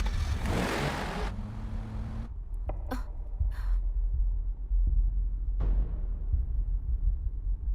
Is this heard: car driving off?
yes